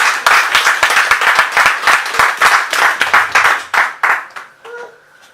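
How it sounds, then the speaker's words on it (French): A church congregation claps and applauds together, loud and close, with steady rhythmic clapping that fades out at the end. "Est-ce que tu peux acclamer le Seigneur Jésus?"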